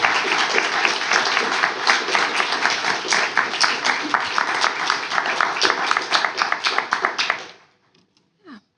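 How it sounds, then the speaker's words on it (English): A round of applause for the panelists at an architecture lecture, many hands clapping loudly and steadily for about seven seconds before stopping abruptly, followed by brief quiet. "can we just get a round of applause for them?"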